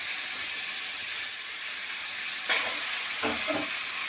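Pieces of bottle gourd frying in a wok after the spice tempering: a steady loud hiss of hot oil, then a sharp burst of sizzle as more goes in, with scraping stirs toward the end and no speech.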